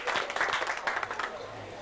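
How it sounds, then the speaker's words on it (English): An audience at a close-up magic performance gives a short burst of clapping for a volunteer, brief and fairly quiet with uneven hand claps. "maybe you could give Beverly a round of applause"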